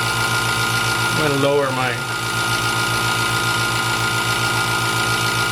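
A wood lathe turns an oak bowl at about 500 RPM, giving a steady, loud motor drone that runs unbroken throughout, while someone speaks briefly near the middle.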